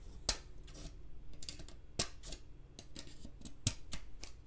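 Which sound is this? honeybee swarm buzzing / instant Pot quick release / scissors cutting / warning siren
scissors cutting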